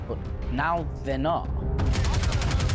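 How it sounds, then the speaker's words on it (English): Rapid automatic gunfire in the space game Star Citizen bursts out in a fast, steady string of close, loud shots right after a man's brief speech. "Who is shooting that gun?"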